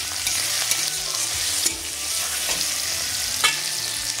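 Bean seed dal frying in a pan with ginger-garlic paste, salt and turmeric powder gives a steady, close sizzle broken by occasional stirring scrapes and clicks.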